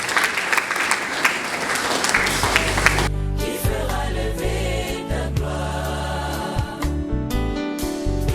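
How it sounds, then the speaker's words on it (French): An audience applauding at a memorial tribute gathering, sustained clapping of many hands that continues throughout at moderate loudness with a brief shift partway through. "Merci, on acclame."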